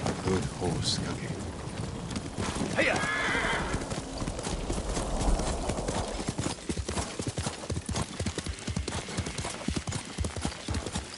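A horse gallops with steady hoofbeats and whinnies in the samurai video game Ghost of Tsushima, with rain in the background and a rider briefly shouting to urge it on.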